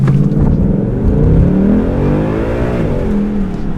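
A car launching from a standstill and accelerating hard with a ported intake manifold, its engine note climbing steadily in pitch through the revs, loud and close for a few seconds.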